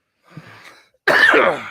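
A single person coughs once, a loud, close, harsh burst that follows a brief softer breathy noise.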